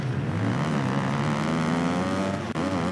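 A motocross bike engine in MXGP 2019 drones loud and steady at high revs, its pitch rising and falling slightly through a corner, with a brief dip near the end, and no voices.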